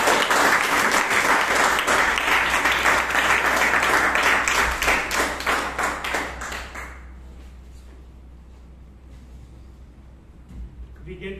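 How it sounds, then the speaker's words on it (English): A meeting audience applauds in welcome, loud and dense for about seven seconds, then fades to a few scattered claps and near quiet. "Please welcome, with a round of thunderous applause,"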